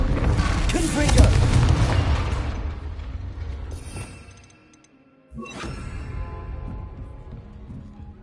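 A Confringo fire spell cast in the video game Hogwarts Legacy bursts loudly at the start and rumbles as it fades into quiet, followed by a second sharp hit and renewed mechanical-sounding game noise.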